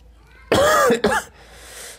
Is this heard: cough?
yes